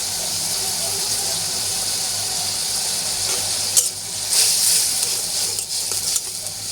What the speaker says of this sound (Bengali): এখন ভালো করে মশলাগুলো কষিয়ে নিতে হবে।